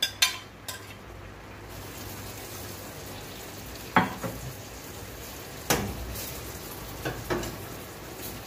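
Okra drops into a hot pot and sizzles steadily, a soft continuous frying hiss broken by a few sharp clinks and knocks of a utensil against the pot.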